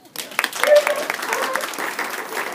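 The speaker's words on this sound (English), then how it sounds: "Let's give them a round of applause." Audience applause rises quickly into a bright, crackling burst, peaks early and then settles into steadier clapping, with voices and cheering underneath.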